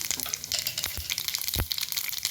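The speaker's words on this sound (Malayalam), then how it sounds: "ഒരു മുക്കാൽ ടേബിൾ സ്പൂണോളം വെളിച്ചെണ്ണ ഒഴിച്ചു കൊടുത്തിരിക്കുന്നത് കാൽ ടീസ്പൂൺ ഉഴുന്ന് പരിപ്പ് കാൽ ടീസ്പൂൺ കടുക്" Urad dal and mustard seeds fry in coconut oil in a kadai, giving a close, crackly sizzle with quick pops and a couple of louder spits over a couple of seconds.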